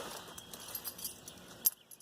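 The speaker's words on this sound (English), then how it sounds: "Last thing I'll show you here is my keys that I think are pretty cool." Keys on a Hudson Motor Car Company keychain jangle softly and close by, rustling for a couple of seconds before a sharper clink and then quiet.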